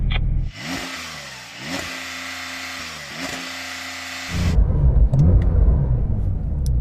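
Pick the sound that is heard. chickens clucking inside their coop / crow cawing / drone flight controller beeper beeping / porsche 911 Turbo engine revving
porsche 911 Turbo engine revving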